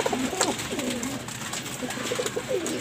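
Pigeons eating scattered corn coo softly in a series of low, throaty calls close by, over a steady background of ambient noise.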